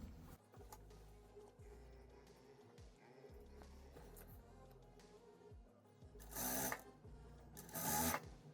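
A sewing machine joins the hem of a loose dress while the elastic shirring thread is stretched, giving short bursts of rhythmic stitching with pauses between, faint and close, and two brief louder rasping rubs near the end.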